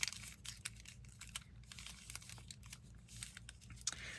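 A paper bag is folded by hand, giving soft close crinkles and papery crackles in short bursts over a low background hum.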